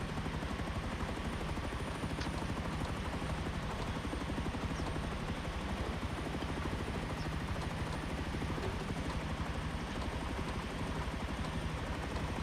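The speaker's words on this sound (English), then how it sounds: "I haven't used this helicopter in a little bit" Helicopter flying in the video game Rust, a steady loud rotor chop with rapid thumping blade beats over a constant engine whine, unbroken throughout.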